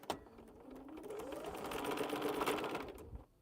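A sewing machine stitches a quilt block in one steady, fairly loud run of about three seconds, starting and stopping abruptly.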